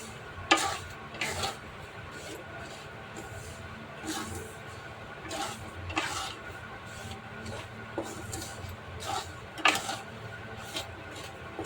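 Salt dry-roasting in a pan, stirred with repeated, irregular scraping and gritty rattling strokes close up, some sharper than others, over a low steady background hum.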